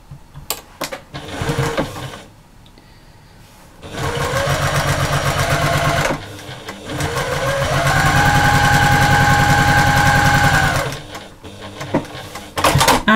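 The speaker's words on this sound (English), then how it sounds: "So let's just get this stitched together." A sewing machine stitches lap quilt seams in long motor runs with short pauses between them, its steady whirring close and loud, with no voices.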